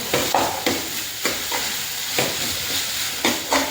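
Beetroot sizzles in a hot pan with salt. Close, loud frying hiss runs steadily throughout, and a utensil scrapes and stirs at regular intervals. No one speaks.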